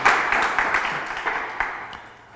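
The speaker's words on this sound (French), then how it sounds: "Est-ce qu'on peut applaudir pour monsieur Roger aussi?" An audience claps at a talk on how the brain works, a dense, steady round of applause from a room full of people, fading slightly at the end.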